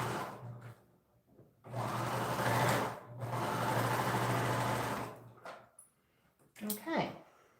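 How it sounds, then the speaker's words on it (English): A home sewing machine stitches a quarter-inch seam on a quilted fabric bow, running in two steady bursts of close mechanical whirring separated by brief pauses, followed by quieter handling noises. "I'm going to sew down here with 1/4 of an inch"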